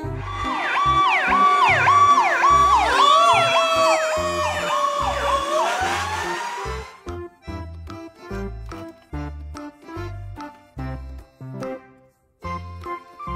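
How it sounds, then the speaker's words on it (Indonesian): A toy fire truck siren wails loudly with electronic up-and-down tones, then gives way to rhythmic toy music beats; no voices. "Mobil truk pemadam kebakaran"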